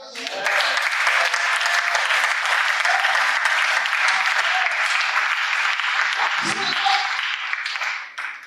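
A church congregation at a Sunday service applauds to acclaim the Lord. The clapping is loud, continuous and crowded, swells in quickly, holds steady for several seconds and then tapers off.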